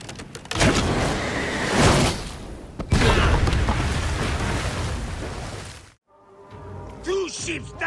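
Ships blowing apart in Assassin's Creed Origins, a loud sustained roar of booming blasts and crackling debris for several seconds, cut off abruptly before quieter game ambience with faint rising whistles returns.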